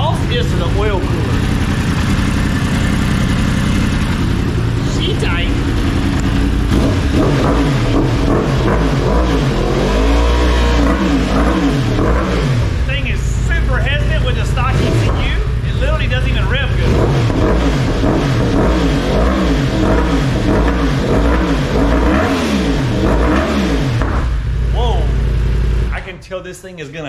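A 2023 Yamaha R1M sport bike engine revs hard on a dyno with headers and exhaust, loud and sustained with rising and falling pitch sweeps for nearly the whole span, then cutting off abruptly near the end; voices are heard under the engine.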